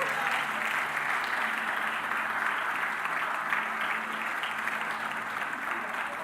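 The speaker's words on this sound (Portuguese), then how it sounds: "Você pode aplaudir a Deus por isso?" A church congregation applauding, a sustained, even roar of many hands clapping together for several seconds, full and close without letting up.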